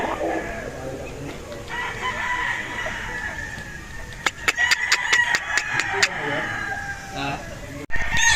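A gamefowl rooster crows nearby, a clear, drawn-out call rising over outdoor background noise, followed by a quick run of sharp rhythmic clicks and a brief thump.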